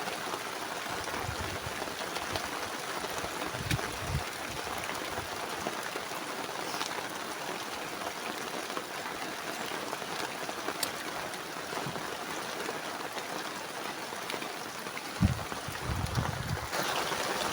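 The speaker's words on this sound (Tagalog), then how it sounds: "Grabe, ulan." Heavy rain pours steadily over a mangrove river around a small fishing boat, a dense continuous hiss with wind buffeting the microphone and a few knocks near the end, no voices.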